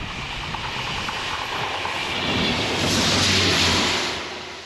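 A train passes on a live railway in the UK countryside, a steady broad rumble and rattle that swells to a peak around the middle and then eases away, with no voices.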